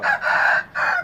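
Loud rooster crowing close by at a rural backyard where chickens are raised, two strong bursts split by a short pause.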